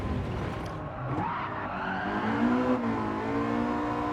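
A car in Gran Turismo slides under handbrake, its tires squealing in a rising, wavering whine over the steady drone of the engine. The sound is close and continuous, lasting a few seconds.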